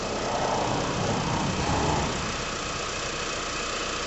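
A 2001 Mitsubishi Galant engine idles smoothly and steadily after its throttle body was cleaned, a constant low rumble heard up close with no hunting or surges.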